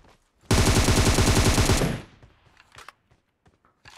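Loud, rapid burst of automatic gunfire from a PUBG video game, a dense spray lasting about a second and a half that cuts off abruptly, followed by faint scattered clicks and small noises.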